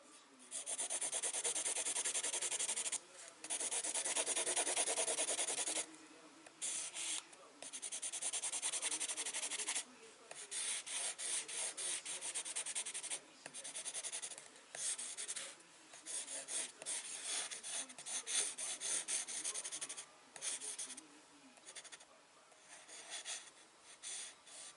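A soft graphite pencil shades a large dark patch on paper, giving a close, steady scratchy rubbing in long strokes with brief pauses between passes.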